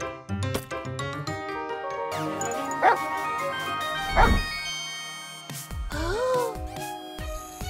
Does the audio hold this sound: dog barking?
yes